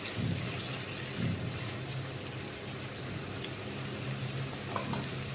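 Chopped onions sizzle in ghee in a pan for mutton korma, a steady dense hiss and crackle with a few low thumps at the start.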